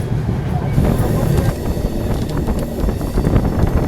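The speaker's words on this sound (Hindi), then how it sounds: "ट्रेन भाई पहुंच रही है अपनी हाजीपुर जंक्शन की तरफ" An express train rolls toward Hajipur Junction, a steady loud rumble of wheels and carriages with wind buffeting the microphone and no clear talk.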